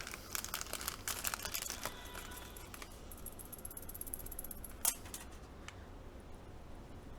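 A lubricated mechanical keyboard being handled produces dense, quiet clicking and clattering for the first few seconds, then a sparser scatter of soft taps with one sharper knock near the end.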